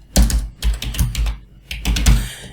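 Rapid computer keyboard typing while PHP code is written, in three quick bursts of close, crisp key clicks separated by short pauses.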